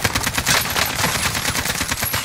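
AK-47 automatic fire in Warzone, a Modern Warfare battle royale game, rattles in a dense, rapid, continuous stream of loud close-range shots throughout, with no voices over it.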